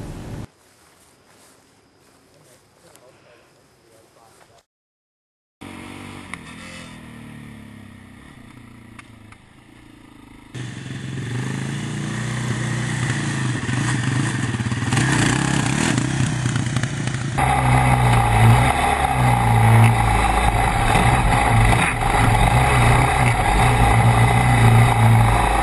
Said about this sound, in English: a basic obstacle test that consisted of driving over a series of logs at different speeds